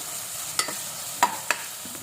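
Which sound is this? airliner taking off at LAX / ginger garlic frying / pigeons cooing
ginger garlic frying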